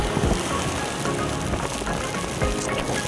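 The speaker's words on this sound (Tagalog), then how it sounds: "Ito itsura ng Muson pagka Bagyo." Heavy monsoon rain during a typhoon pours down in a steady, dense roar, with a broad constant wash of noise and no voices.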